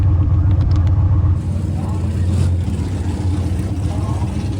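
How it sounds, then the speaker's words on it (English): A drag race car launching off the trans brake at a drag strip, a loud, deep engine rumble that drops suddenly and then carries on as a rough, rising roar, with voices faintly underneath. "First trans brake hit at the drag strip."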